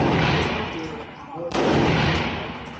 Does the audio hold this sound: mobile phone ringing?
no